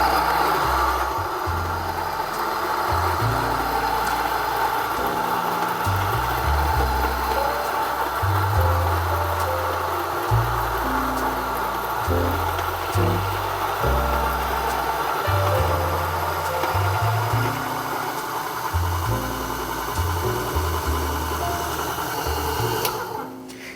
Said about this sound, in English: I'm just gonna grind the coffee.